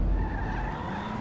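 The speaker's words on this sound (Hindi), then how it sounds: "ओहो हो ये टाटा नैनो जो बहुत बढ़िया चलती है।" A Tata Nano in GTA 5 skids with a loud, sustained tyre squeal over a low engine rumble, close up and lasting about a second.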